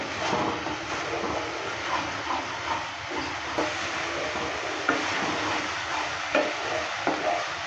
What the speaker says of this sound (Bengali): লো মিডিয়াম আঁচে আমি কিছুক্ষণ সময় নিয়ে ভালো করে কষিয়ে নিচ্ছি।